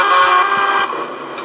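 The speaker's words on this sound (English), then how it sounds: "you can just honk the horn a couple times" A truck horn in the American Truck Simulator multiplayer game blares loud and steady, a long sustained honk that drops in level near the end while the tone carries on.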